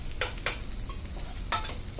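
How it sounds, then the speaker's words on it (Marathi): Onions frying with turmeric in a pan sizzle softly under a few distinct scraping strokes of a spoon stirring, heard close and without talk. "फ्राय झाल्यानंतर कांदा आपल्याला एक टीस्पून यामध्ये हळद टाकायची आहे आणि व्यवस्थितपणे हलवून घ्यायचं आहे"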